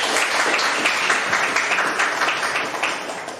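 A classroom of students applauds together after a technical drawing lesson answer, a steady dense clapping that fills the room at even loudness throughout without any talk over it.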